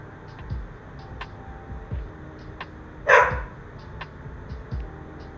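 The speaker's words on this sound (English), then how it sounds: "So I guess we're just gonna let the dog bark." A dog barks in short, sharp bursts at irregular intervals, one louder bark standing out midway, with faint clicking and background room noise behind it.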